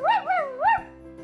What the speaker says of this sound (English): You got me a dog!